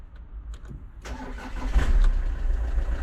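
An old bus engine in Spain cranks with a few soft clicks, catches about a second in, and settles into a loud, rough, rumbling idle that holds steady, close up and alone.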